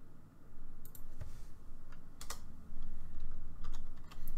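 Computer keyboard typing with quick bursts of key clicks in an uneven rhythm, close and fairly quiet, while numeric coordinates are entered in CorelDRAW 2019, with no talking.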